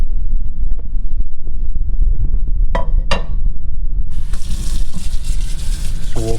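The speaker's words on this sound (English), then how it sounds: "So we'll fill that up with water" Tap water gushes into a dish in a kitchen, starting abruptly partway through and running loud and steady after a stretch of low rumbling handling noise and a couple of sharp clinks.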